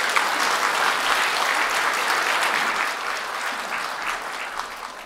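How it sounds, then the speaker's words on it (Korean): A church congregation welcomes a pastor to the pulpit with warm applause, a steady, dense clapping that eases slightly after the midpoint and stays unbroken by talk. "나오실 때 박수로 모시겠습니다"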